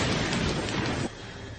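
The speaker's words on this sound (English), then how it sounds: "Thunder. And thunder can get pretty loud." A loud, close, sustained roar of thunder from a lightning bolt, a broad rumbling boom that drops to a lower level partway through and keeps growling, with no voice over it.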